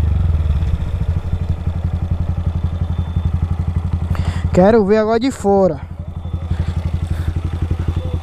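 A modified Start 160 motorcycle with a 16-tooth pinion, altered cam, a Dore part and no air filter idles close by in a steady, throbbing pulse, while voices speak briefly over it midway.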